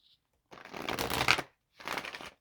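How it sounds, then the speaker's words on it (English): A deck of tarot cards is shuffled in two close, crisp riffling bursts, the first longer than the second, with a short quiet pause between them. "Shuffle the deck."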